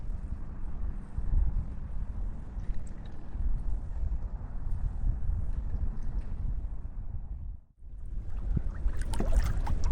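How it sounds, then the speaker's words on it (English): Wind buffets the microphone while kayaking on the Saint Sebastian River in Florida, a continuous gusty low rumble that briefly cuts out near the end before resuming. "it's getting a little windy"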